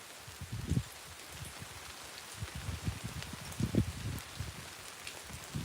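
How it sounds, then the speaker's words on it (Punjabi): Steady rain hiss fills the background, with low muffled thumps and rustles rising and falling throughout, fairly quiet overall. "ਵੀਰੇ ਮੀਂਹ ਪਈ ਜਾਂਦਾ"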